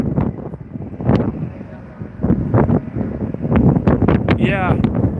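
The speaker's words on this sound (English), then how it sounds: "I'm pretty sure we felt one of those 70-mile-an-hour gusts on the way over here" Strong wind gusts buffet a microphone outdoors on a very windy day in downtown Las Vegas, producing loud, irregular low rumbles and bursts, with people talking underneath throughout.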